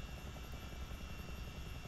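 Miltech CH-47 Chinook tandem-rotor helicopter in Microsoft Flight Simulator, a steady, dense rotor and turbine drone with a low, even churning throb, loud and unbroken throughout, with no voices.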